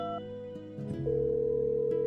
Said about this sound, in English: The sound of the ringing makes me tense, but it only rings twice before he finally picks up.